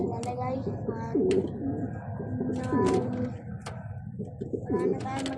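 Racing pigeons cooing close by in repeated soft, throaty rolling calls, several birds overlapping with light chirps and background rustle.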